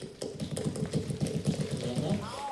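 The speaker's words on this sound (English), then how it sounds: "Now, if you want to make a low-pitched sound, you make your mouth hole really small like this." Cheeks tapped with the mouth pinched to a small hole, producing a fast, steady string of dull, low hollow pops up close, with a faint voice or hum trailing in near the end.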